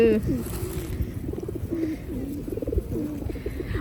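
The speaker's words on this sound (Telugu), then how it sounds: "అసలు ఇక్కడ అసలు ఎగిరిపోవండి పావురాలు" Pigeons coo repeatedly at close range while being fed bread, low throaty calls overlapping in an uneven rhythm over a steady outdoor background.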